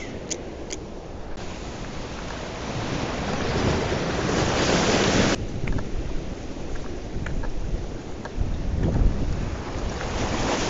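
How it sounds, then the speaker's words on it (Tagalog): Big sea waves surging and crashing near a shoreline fishing spot, a continuous roar of surf mixed with gusting wind buffeting the microphone, swelling louder in the middle and again near the end. "Malaking alon eh."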